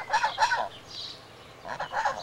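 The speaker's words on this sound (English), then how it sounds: "We are ducks. We are geese." Ducks and geese call nearby in two short bursts of loud honks and quacks separated by a brief pause.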